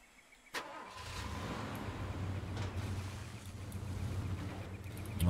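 A car engine in the video game Far Cry 2 cranks and catches after a quiet moment, then settles into a steady, rising idle rumble that grows louder toward the end, with no talking.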